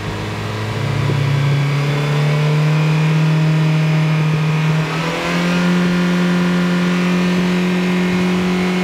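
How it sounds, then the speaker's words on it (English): A car engine treated with Seafoam revs steadily at idle, rising in pitch around the one-second mark, dipping briefly, then climbing again and holding a loud, sustained drone. "Give the engine a few revs to break up any of those carbon deposits."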